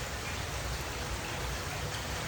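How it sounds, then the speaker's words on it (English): Steady rain falls on a garden, a dense, even hiss of drops close by that holds without a break. "The sound of the rain I find is very relaxing as well."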